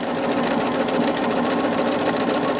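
A sewing machine stitches a Christmas gnome pattern, running fast with a continuous close mechanical whirring and rapid needle clatter.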